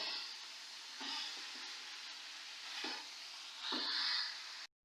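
Cauliflower frying in a pan, with a steady hissing sizzle and a few soft scrapes of a spoon gently stirring, close and fairly quiet, cutting off abruptly at the end.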